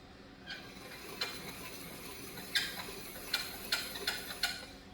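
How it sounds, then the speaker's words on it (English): A cheap hand ring file grinds a piston ring during a rat rod engine short block build, giving a series of short, sharp rasping strokes at an uneven pace over a faint background hiss. "I got this cheapy ring file here."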